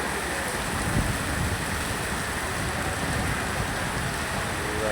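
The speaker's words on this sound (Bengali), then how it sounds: "হঠাৎ করে শিলাবৃষ্টি।" A sudden hailstorm with heavy rain and strong wind, a dense, steady wash of falling water and ice pattering on surfaces close by, holding throughout without pause.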